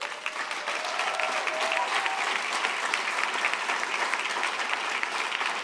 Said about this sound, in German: Die haben zu viel geklatscht